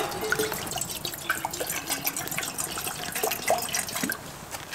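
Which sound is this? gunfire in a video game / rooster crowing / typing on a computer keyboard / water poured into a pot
water poured into a pot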